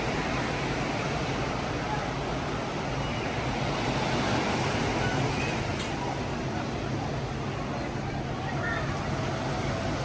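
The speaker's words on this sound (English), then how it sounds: "it makes it real easy to fall asleep listening to this beautiful ocean out here" Ocean surf at Waikiki Beach in Honolulu, heard from a resort room as a constant broad roar of waves with steady wind noise, no distinct breaks standing out.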